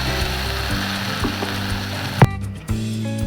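Kadala curry with freshly ground coconut paste simmers in a pan, giving a steady close bubbling sizzle with a few soft clinks near the end; no one talks.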